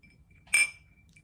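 Glasses of kombucha touch in a toast, one bright clear clink with a short ringing tail standing out against a quiet room.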